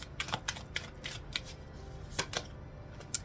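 Quick bursts of cards being shuffled, a flurry of crisp riffling snaps that pause and resume, fairly close and quiet.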